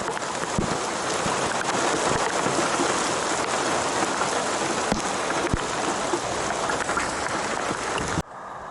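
Heavy rain pours down in a dense, steady hiss with scattered close drips and taps on surfaces, and it drops off abruptly at the very end.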